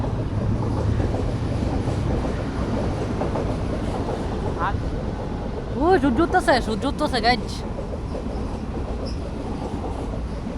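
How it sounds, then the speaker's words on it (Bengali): A train rolls past with a steady low rumble and rail noise, rising into a brief burst of squealing wheel and horn-like tones midway, while someone talks over it throughout. "টুক টুক টুক টুক যাইতেছে রেলগাড়ি"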